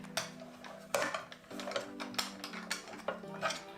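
Metallic clicks and rattles as the blade lock is released on a Festool TS 55 Li cordless plunge saw, with several sharp close-up clacks over a faint steady hum, no voices.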